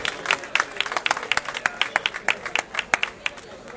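Crowd clapping at an award ceremony for a half marathon's second-place finisher in Murcia, sharp individual claps standing out over a lighter, scattered applause, fairly close and uneven in rhythm.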